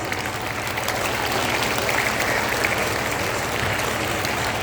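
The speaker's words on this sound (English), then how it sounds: "Children, clap your hands." Children at an Independence Day school prize-giving clap their hands together in a steady, dense round of applause, loud and sustained, with faint crowd murmur beneath.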